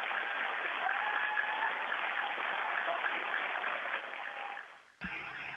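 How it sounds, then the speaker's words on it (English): A round of applause for astronaut Tim at the National Space Centre in Leicester, steady dense clapping that holds for about four seconds, then fades and cuts off abruptly. "And a round of applause as well"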